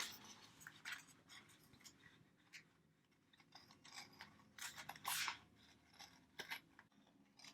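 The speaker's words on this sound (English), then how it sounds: "I'm going to get my scissors, my red scissors, of course, and I'm going to cut down the middle." Red scissors snip down the middle of planner paper in short, irregular cuts, close and crisp against a quiet background.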